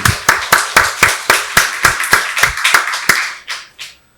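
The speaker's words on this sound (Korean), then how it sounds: "박수로 하나님께 영광 돌리겠습니다." A church congregation at Sunday worship claps in a fast, even rhythm, about a dozen sharp, loud claps that slow down and fade near the end.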